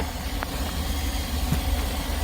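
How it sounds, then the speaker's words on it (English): A GM car engine idling after an ECM replacement, a steady low rumble with a faint brief click or two over it, close by. "Now we're gonna start your car first."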